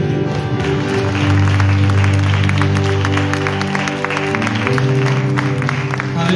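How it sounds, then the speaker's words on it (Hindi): A church congregation claps for God during a sermon, sustained rhythmic applause over music with voices mixed in, loud and close. "ताली बजा परमेश्वर के लिए"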